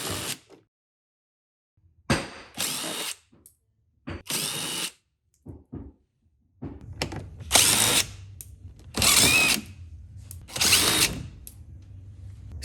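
A 7/32 nut setter on a power driver backs out Ford Edge bumper screws in several short bursts of whirring and ratcheting, close and fairly loud, with quiet gaps between each run.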